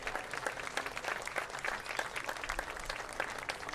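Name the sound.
crowd applauding North All-Stars at softball game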